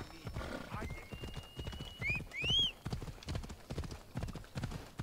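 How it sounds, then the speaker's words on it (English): Horse hooves clip-clop in a steady rhythm while riding in the video game Assassin's Creed Odyssey, with whinnies and someone talking over the hoofbeats. "come on. Get on the horse."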